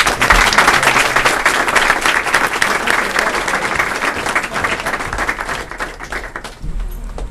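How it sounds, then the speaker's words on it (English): An audience at a council meeting applauds Take Stock in Children mentors, with dense, loud, sustained clapping that thins out toward the end. "If there are mentors in the Take Stock in Children mentors in the audience, just please stand so we can applaud you."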